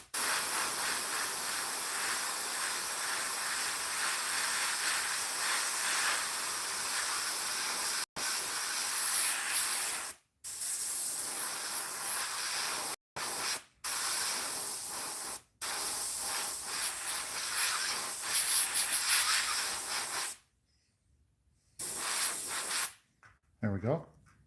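Aerosol spray paint hissing onto a homemade musky fishing lure in long continuous bursts, with several short pauses and one longer break between sprays.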